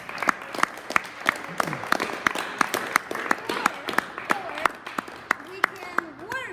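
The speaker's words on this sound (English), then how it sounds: "Let's give ourselves a round of applause." An audience at a book release celebration claps in a sparse, uneven round of applause with sharp individual hand claps, while voices chatter underneath.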